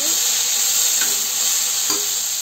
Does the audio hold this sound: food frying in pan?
yes